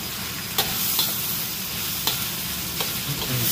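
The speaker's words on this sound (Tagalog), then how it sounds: "nagkakaramelize ng brown onion" Brown onions caramelizing in a pan for Spanish kaldereta, giving a dense, steady, close sizzle with a few faint stirring clicks and no talk.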